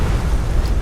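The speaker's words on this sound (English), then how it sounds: "Kaboom! Explosion!" A loud, booming explosion in the Skyrim video game during a dragon hunt, a dense rumbling blast that fills the whole moment with low-heavy roar and no speech over it.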